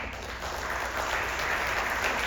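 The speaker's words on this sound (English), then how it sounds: "Let's give a big applause to the heroes of today's show" A live audience at a comedy event in Southern California bursts into sustained applause, dense clapping that holds steady and swells slightly toward the end.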